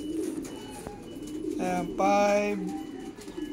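Racing pigeons coo inside a loft in a couple of close, rising and falling calls, with someone talking over the background.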